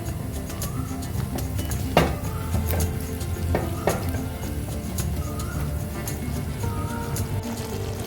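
Eggplant, green chillies and salt are stirred in a hot pan, with a steady sizzle and scattered sharp scrapes and clinks of the spoon against the pan, close up.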